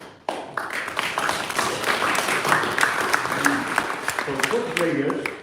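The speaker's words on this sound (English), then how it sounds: "So I think you can give yourself a round of applause." A health alliance event audience applauds NHS staff with steady, fairly loud clapping, joined by murmured voices and a few sharper taps near the end.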